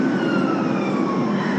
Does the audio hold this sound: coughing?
no